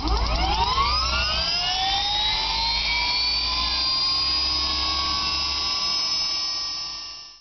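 A gas turbine engine from light helicopters and small aircraft, fitted to a Y2K superbike, whines steadily, its high-pitched tones climbing as it spools up, then holding a loud, continuous scream before cutting off.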